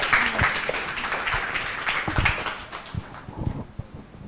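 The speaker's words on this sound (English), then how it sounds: "Can we give our HR a round of applause?" An audience applauds for an HR official at a Nigerian independence anniversary gathering. A thick burst of clapping from many people fades toward the end, leaving scattered, uneven claps.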